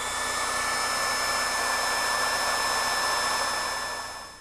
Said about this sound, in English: Use a heat gun to shrink the tube securely onto the fitting.